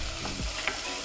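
Tomato with chilli powder and kitchen king masala sizzling in a pan for dal tadka, a brief soft crackle with a quick scrape of a spoon stirring through it, fairly quiet, with no voice.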